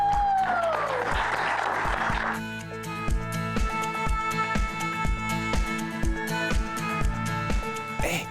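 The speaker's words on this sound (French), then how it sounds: "Applaudissez!" Applause builds over dance music with a steady beat, clapping filling the first seconds before the rhythmic track carries on, loud and close.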